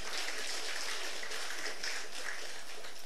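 Dense, continuous clapping from an audience at a religious service, a steady wash of hand claps at moderate distance with no voices over it.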